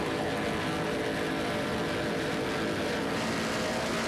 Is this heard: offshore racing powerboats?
yes